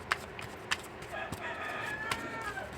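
Chickens crowing and clucking nearby, with a drawn-out rooster crow through the middle and sharp short calls scattered around it, moderately loud.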